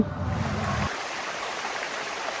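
Water pours over a check dam in a continuous, broad rushing wash, with a low rumble in the first second before only the steady flow remains, and no one speaking.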